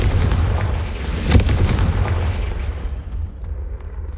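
A Confringo blasting spell explodes in Hogwarts Legacy, a loud booming burst with a sharp crack near the start and a rumbling decay, heard alone without speech.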